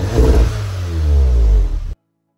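A Volkswagen Golf R with an R600 tune and centre resonator delete revs loudly up close, its engine note rising in a strong, rasping sweep for about two seconds before cutting off abruptly.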